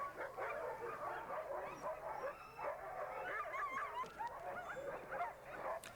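Sled dogs specially bred for long-distance Iditarod racing bark, yip and whimper excitedly in a continuous, overlapping chorus, eager to go for a run.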